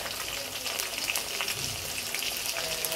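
Green chillies and onion frying in hot oil for chicken khichuri give off a steady, close, crackling sizzle with scattered sharper pops, heard alone without talk.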